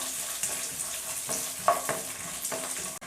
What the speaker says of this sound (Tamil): நம்ம சேர்த்த கடலைப்பருப்பு வேர்க்கடலை காய்ந்த மிளகாய் எல்லாமே எண்ணெயில் நல்லா பொரியணும்